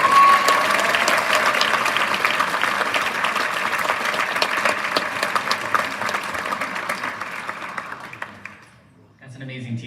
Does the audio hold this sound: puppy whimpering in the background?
no